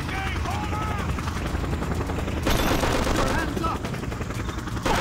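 Helicopter gunfire in the video game Just Cause, dense rapid bursts of shots over a constant rotor drone, growing louder midway, with someone talking briefly over the action.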